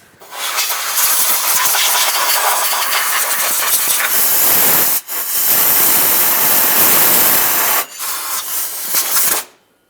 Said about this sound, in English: I'll use some compressed air.